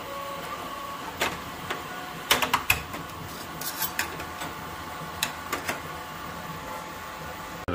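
A Bambu P1P 3D printer running, with a steady mechanical hum and scattered light ticks and clicks from the moving head, close and moderate in level.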